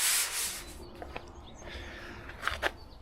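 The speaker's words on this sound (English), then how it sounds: "I'll sand that and then I'm calling it good." Abrasive rubbing strokes scrape across drywall mud, a loud stroke at the start followed by quieter, irregular sanding passes and a couple of sharp scuffs.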